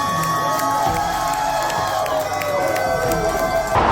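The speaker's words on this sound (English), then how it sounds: "make some noise for Dix Enormous as he exits the competition" An audience at a drag show cheers, whoops and shouts loudly throughout, a dense, steady crowd roar heard from within the room.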